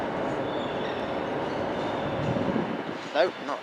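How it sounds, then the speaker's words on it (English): A Class 380 electric train pulls into Glasgow Central station, a steady rumbling roll of wheels on track with rising squeals near the end and station ambience throughout. "Here comes another Class 380. Terminating here from Air."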